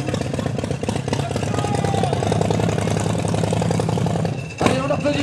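A motorcycle engine idles steadily close by with a throbbing, even rhythm, briefly dipping then catching again near the end.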